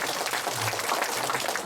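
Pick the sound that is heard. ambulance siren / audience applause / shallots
audience applause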